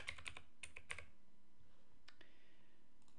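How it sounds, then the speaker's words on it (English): Keys on a computer keyboard clatter in a quick burst of a few clicks, then fall quiet before a couple more taps; close and fairly soft, with no voices. "Let's type it"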